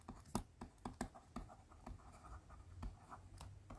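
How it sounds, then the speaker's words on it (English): Pen on paper writing out accounting notes: soft scratchy strokes and light taps in short irregular bursts, close and quiet, with no talking. "So let's write it down."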